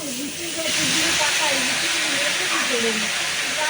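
Liquid is poured into a hot kadai, or wok, and hits it with a sudden loud, sustained sizzling hiss that lasts to the end while a person talks over it.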